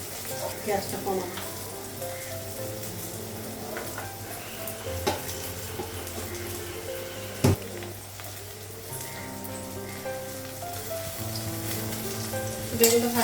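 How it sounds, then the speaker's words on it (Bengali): Eggplant slices frying in oil in a pan give off a continuous even sizzle, with occasional stirring scrapes and a sharp clank near the middle, and faint voices behind. "বেগুনটা ভাজা হয়ে গেছে, বের করবো।"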